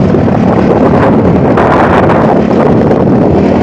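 Strong wind roars and buffets the microphone continuously in a forest near Lucena, Quezon Province, on an overcast day, a loud, steady rushing noise with no voices.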